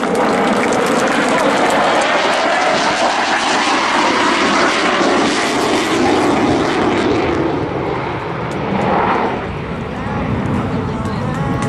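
A US Navy F/A-18C Hornet fighter jet at an air show, its loud, continuous engine roar filling the sky as it accelerates past, sustained throughout with slight dips near the end under crowd ambience.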